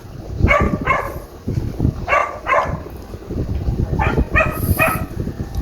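A neighbor's dog barks in short clusters, two or three sharp barks at a time, fairly close and loud over a low background rumble.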